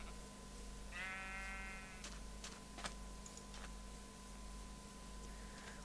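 A sheep in the Minecraft video game bleats once, a short wavering electronic baa standing alone against a faint steady background hum, followed by a few soft clicks.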